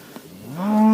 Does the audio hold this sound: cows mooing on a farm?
yes